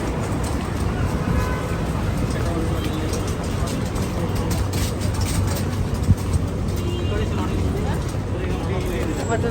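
Busy road traffic by Baniyas metro station, a dense continuous rumble of passing vehicles at an even loud level, with someone talking over it throughout.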